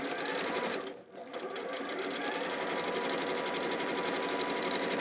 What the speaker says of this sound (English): it's definitely worth chain stitching those together.